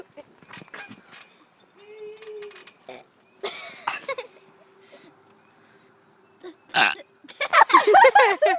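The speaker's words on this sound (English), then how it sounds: "Here's my funny burp." A child on a trampoline burps repeatedly, several short croaking belches spread across the stretch with quiet gaps, and other children talk and laugh in between, louder toward the end.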